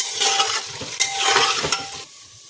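Onions fry with dried red chillies in a pan for keema, giving a crackling sizzle broken by scraping stirs and light clinks of a spoon against the pan, then easing off near the end.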